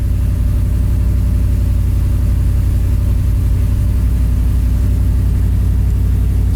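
A V8 engine in a muscle truck fitted with Holley Sniper fuel injection idles smoothly and steadily, loud and close, with a constant deep rumble and no talking.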